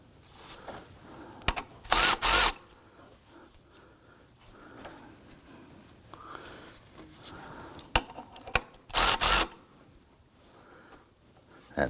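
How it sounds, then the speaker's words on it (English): A ratchet tightens the serpentine belt tensioner on a 2005-2009 Subaru Legacy 2.5L H4. Two short, loud bursts of rapid ratcheting are separated by quiet stretches with faint handling noises and breathing. "Let's go ahead and tighten down the tensioner here"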